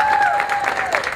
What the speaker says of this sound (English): Everybody give her a hand clap.